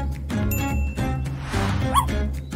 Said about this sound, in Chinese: 把那只狗给我带出去